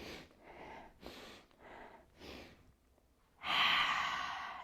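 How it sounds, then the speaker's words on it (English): Breathing exercise during a slow-flow yoga practice, with several soft breaths followed by one long, loud exhale out through the mouth that fades gradually. "inhale and an exhale out through the mouth"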